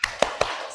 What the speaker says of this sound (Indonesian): sebelum Bu Guru akhiri, tepuk semangat